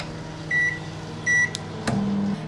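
A microwave oven heating chocolate and butter gives two short, clear beeps, then a click of the door or button and the start of its low, steady hum.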